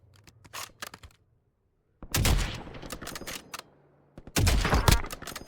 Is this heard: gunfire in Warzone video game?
yes